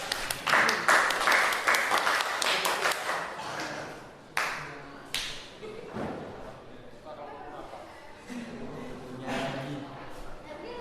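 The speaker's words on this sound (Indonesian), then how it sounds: "Kasih tepuk tangan untuk kelompok 2." A classroom group is applauded by other students, with scattered clapping at varying loudness mixed with chatter and a few sharp knocks, all heard from inside the room.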